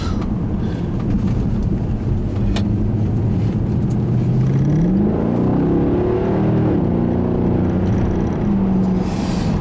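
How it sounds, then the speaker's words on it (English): A 2009 Mercedes-Benz C63 AMG's V8 accelerates at partial throttle, a loud, steady engine roar rising in pitch as revs climb, with a smooth gear change from the seven-speed automatic midway. "I literally only put my foot down maybe like a quarter, and that V8 is just impressive."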